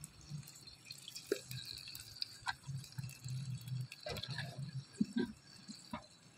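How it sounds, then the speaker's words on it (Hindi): Ghee, about three-quarters of a cup, pours into a cooking pot for a chicken shorba curry, giving soft liquid trickles and drips with a few light clatters over quiet kitchen background noise. "अब हम डालेंगे घी, तकरीबन पौना कप घी का मैं डालूंगी।"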